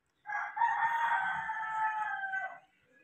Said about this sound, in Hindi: ये इसमें से जी नौ मुर्गियां हैं जी